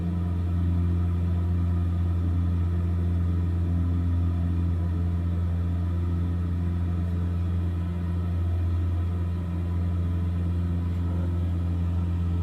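A steady droning aircraft engine at cruise RPM from the X-Plane 12 flight simulator hums continuously and moderately loud, with constant low tones and no talking.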